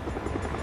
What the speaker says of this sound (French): je suis heureux d'entendre le son d'un hélicoptère